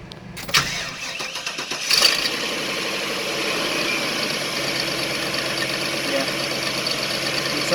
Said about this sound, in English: I'm going to go ahead and start it.